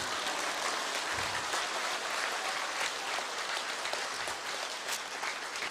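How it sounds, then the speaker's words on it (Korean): Audience applause at a company presentation, a broad, continuous wash of clapping from many people, fairly loud and steady throughout with no talk over it. "박수 안 쳐요?"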